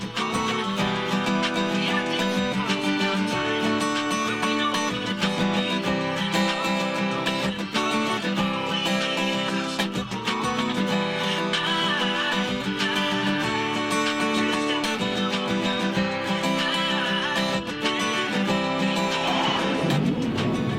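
Acoustic guitar strumming open chords through a song, a steady full-band-like rhythm that stays loud and continuous throughout with no talking.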